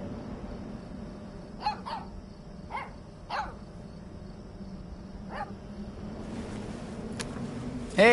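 A puppy in a video game gives a handful of short, yappy barks spaced across the stretch, fairly close over a steady low hum of game ambience.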